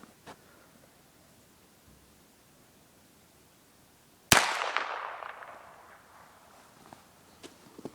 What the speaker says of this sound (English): H&R 22 revolver, shooting Remington Thunderbolts.